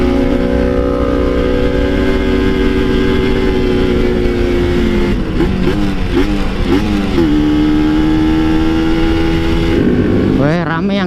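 A two-stroke Kawasaki Ninja motorcycle climbing a hill on half clutch, its engine droning loud and steady with wavering pitch and brief revs, heard close under occasional talk.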